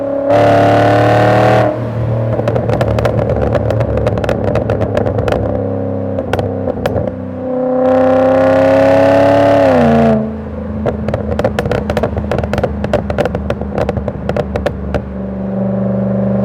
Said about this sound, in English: Just listen to that raw exhaust though.